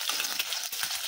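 A little oil sizzling in a wok, a short burst of crackling and spattering heard close, with faint stirring scrapes.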